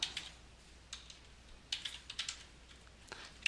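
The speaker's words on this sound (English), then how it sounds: "I can type in a statement like select" Keys clacking on a computer keyboard as a database query is typed, in short irregular bursts of crisp clicks, close and fairly quiet with pauses between words.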